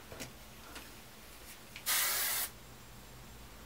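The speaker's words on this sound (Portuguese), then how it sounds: "já joguei um pouquinho de spray" A single hairspray burst lasting about half a second is aimed at hair while a loose bridal hairstyle is being shaped. It hisses loudly and close, alone in an otherwise quiet room.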